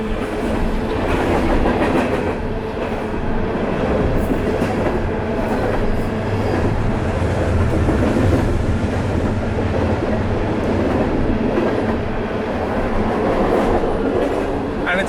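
A freight train rumbles across a stone railroad bridge directly overhead in a continuous heavy roar, with rhythmic clattering of wheels on track.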